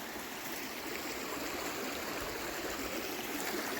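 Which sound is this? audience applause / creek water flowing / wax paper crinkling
creek water flowing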